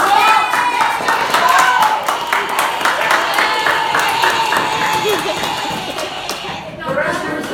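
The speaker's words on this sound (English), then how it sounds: "Applause, please." A classroom audience claps steadily for several seconds, a loose patter of many hands with voices mixed in, gradually thinning out toward the end.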